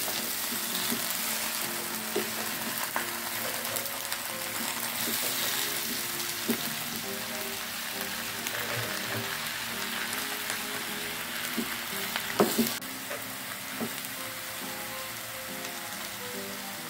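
Pok choy stir-fried in a pan for a bean sprout and egg sauté, giving a steady close sizzle and frying crackle with occasional scrapes and clatters of stirring, no voices.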